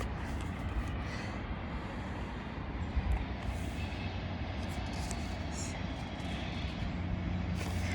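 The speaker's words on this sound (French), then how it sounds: "il y a des trains qui font beaucoup de bruit." A loud train rumbles past nearby with a broad, steady roar and rattling wheel noise that swells slightly and holds, filling the air with no one speaking.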